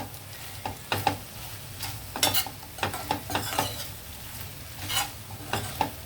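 Okra fry with chili and cumin-coriander powder stirred in a pan, a steady sizzle broken by repeated close scraping strokes in an uneven rhythm.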